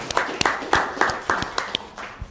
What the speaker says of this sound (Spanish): Vamos a dar un aplauso a su última intervención